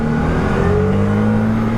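A Can-Am Maverick R side-by-side engine runs close and loud in a steady, sustained drone with a slowly rising pitch, no voices over it.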